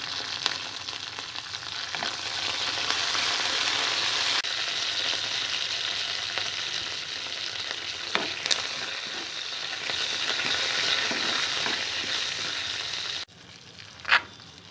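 Steady, fairly quiet sizzle of tempering seeds, dried red chillies and curry leaves frying in oil for mint and onion chutney, with a few sharp pops and a clink near the end.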